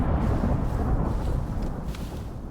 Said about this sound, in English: Oh, that's a flash storm.